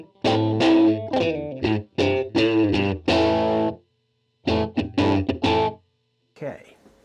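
Distorted electric guitar playing a riff through a Line 6 Helix processor, bright, driven notes in quick phrases separated by short pauses, with a faint trailing scrape at the end.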